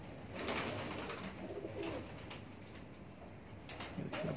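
Pigeons coo softly on a rooftop loft in Punjab, with a few low, gentle calls spread across the clip, faint and somewhat distant, amid rustling and light background noise.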